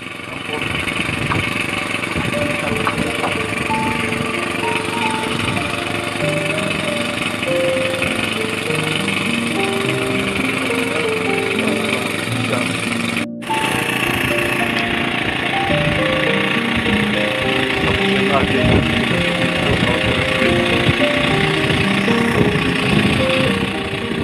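A genset generator runs on a bagan tancap, a fixed bamboo fishing platform, to power its lamps. The small engine drones steadily and loudly throughout, with a brief dropout partway through before the running noise resumes.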